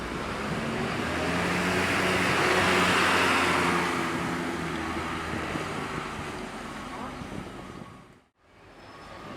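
A PO MPM SR3 bus pulling away from a bus terminal, its steady engine rumble swelling and then fading amid broad roadway noise, with a brief drop near the end.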